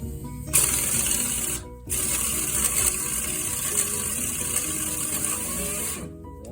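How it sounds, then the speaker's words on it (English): A ratchet removes the lower shock bolts on a 2021 Jeep Gladiator during a Rough Country lift install, producing a loud close run of rapid mechanical clicking that breaks off briefly twice, with no voices. "I'm taking off the lower bolts on the shock"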